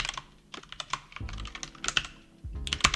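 Fingers typing C# code on a computer keyboard, with quick irregular bursts of close, crisp key clicks and a few heavier thumps, some short pauses, fairly quiet overall and no speech.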